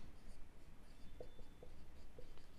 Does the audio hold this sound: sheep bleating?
no